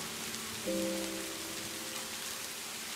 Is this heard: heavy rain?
yes